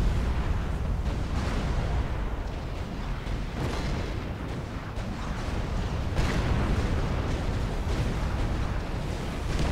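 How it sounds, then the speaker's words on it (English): Naval bombardment from destroyers in the strategy game Supreme Commander Forged Alliance: a steady, dense roll of heavy booms and blasts, loud and continuous with no pauses and no talk. "Where else do you get naval bombardment other than from the sea?"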